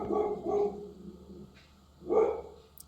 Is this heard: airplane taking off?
no